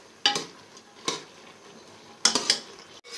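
Black chickpea curry with yogurt being stir-fried in a pan, heard as a few separate bursts of spoon scraping and soft sizzling with quiet pauses between them and no talking.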